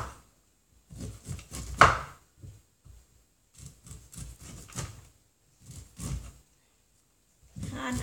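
A knife cuts fresh corn on a board while making Thai corn pudding: irregular, clipped thuds and knocks in short clusters with quiet gaps between them, close by, and a faint voice now and then.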